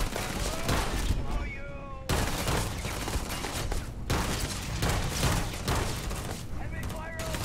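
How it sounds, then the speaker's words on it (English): Gunfire in the space game Starfield: repeated bursts and cracks of weapons fire that run almost continuously at steady loudness, with a voice talking at times over the shooting. "Who's shooting?"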